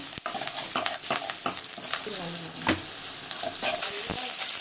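Prawn thokku ingredients sautéing in a hot pan, a steady close sizzle broken by repeated scraping stirs of a spoon against the pan, with no talking.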